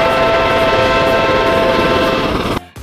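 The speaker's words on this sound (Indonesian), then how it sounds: "Ini lokomotif kereta api uap" A toy steam locomotive gives off a loud, steady whistle-like tone with a rumbling background, held for more than two seconds before cutting off abruptly.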